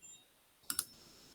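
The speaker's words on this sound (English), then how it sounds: "You can hear the clicking now" Two quick, sharp clicks in close succession, faint and isolated against a quiet background.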